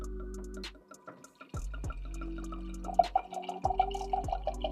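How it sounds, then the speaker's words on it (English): Red wine poured into a glass in a New York apartment, a trickling, dripping pour that builds over a few seconds, close and quiet, with faint clinks and a low background hum. "let's pour up a drink."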